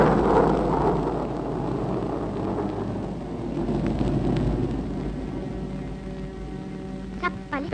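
Steady rain hisses across a street scene in the 1954 film Boot Polish, with a low rumble underneath, and a faint bird call cuts in near the end.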